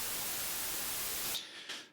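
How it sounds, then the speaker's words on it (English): A simple white noise patch from a synthesizer in Bitwig hisses as a loud, flat broadband wash, cutting off sharply near the end with a brief faint tail. "this is just a simple white noise patch"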